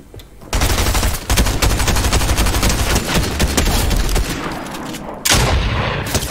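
Rapid automatic gunfire in the video game Fortnite (no-build mode), sustained loud bursts filling nearly the whole stretch with a brief lull near the start and a renewed burst toward the end.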